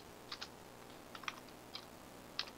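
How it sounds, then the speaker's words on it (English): Sparse keystrokes on a computer keyboard during a Minecraft PvP Walls match, a few soft clicks in small clusters with long pauses between them, close and quiet against faint room hiss. "I type so slow at the minute"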